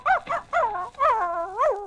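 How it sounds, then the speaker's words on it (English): A dog in a radio drama gives a few short, yipping barks and whimpering yelps in quick succession, close and clear with no talk over them. "Isn't Tracy a smart dog"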